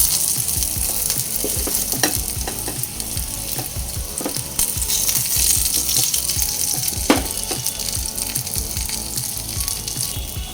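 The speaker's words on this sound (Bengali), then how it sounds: "বেগুনগুলো সেমভাবেই হালকা লালচে করে ভেজে নিয়েছি" Eggplant slices fry in oil in a kadai for a Bengali fish curry, giving a steady close sizzle and crackle throughout, with occasional spatula scrapes and clinks against the pan.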